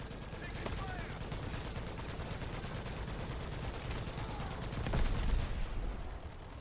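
Rapid gunfire in a multiplayer shooter video game, dense repeated automatic bursts running steadily throughout with a heavier blast near the end, while players talk over it.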